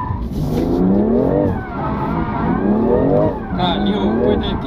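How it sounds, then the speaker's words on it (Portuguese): A BMW M2 Competition drifts nearby, its engine revving in rising and falling surges while the tires skid and squeal, with voices talking over it. "Olha lá, drift de M2"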